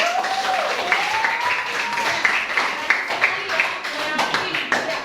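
Students in a classroom applaud after a group presentation, steady clapping lasting several seconds with voices mixed in throughout.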